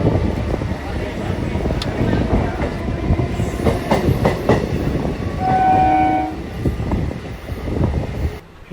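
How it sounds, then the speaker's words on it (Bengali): An EMU local train rumbles and clatters steadily along the tracks as it arrives at Katwa station, close and loud, with short horn blasts sounding partway through. "আমাদের ট্রেনটা কাটোয়া ঢুকছে"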